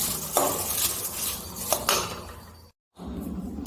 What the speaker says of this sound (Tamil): கருவேப்பிலையே வறுத்துக்கலாம் அடுப்பை சிம்லேயே வச்சு வறுத்துக்குங்க